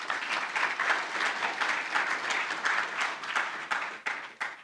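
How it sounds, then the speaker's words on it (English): The audience at a workforce panel event bursts into applause led by the Deputy Premier. The clapping is steady and moderately loud with a dense crowd texture, and it tapers in the final moments. "that applause was led by the Deputy Premier"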